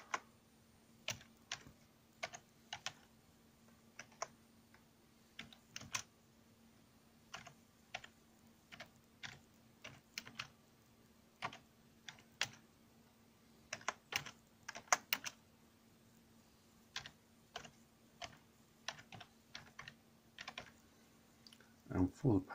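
Wi-Fi connection details are typed on a computer keyboard in a quiet room, as irregular bursts of close, crisp key clicks separated by short pauses.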